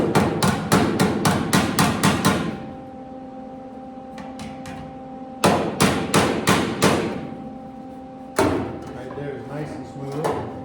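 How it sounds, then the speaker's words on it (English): Body hammer tapping down rust-repaired sheet metal on an International Loadstar truck cab and cowl: three close, loud bursts of rapid metallic taps separated by pauses, with a faint ringing hum between bursts. "Just take my body hammer, tap things down a little bit."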